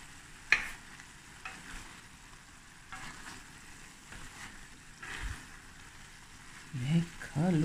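A spoon stirs ostrich mince and asparagus bredie in a pot, with soft scraping and a gentle bubbling simmer. One sharp knock comes early and a voice talks near the end.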